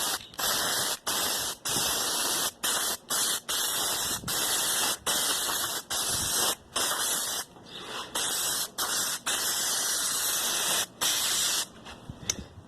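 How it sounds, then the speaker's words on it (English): An aerosol adhesive can sprays onto a car door panel in repeated bursts, a loud close hiss broken by short pauses in an uneven rhythm. "What I'm going to do is spray a good coat of it on here."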